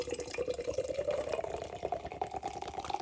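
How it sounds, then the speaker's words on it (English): Beer hard-poured from a freshly opened can of Nova DIPA into a glass, a soft continuous gurgling splash of liquid rising in pitch as the glass fills, heard quietly and alone. "Hard pour, as I do."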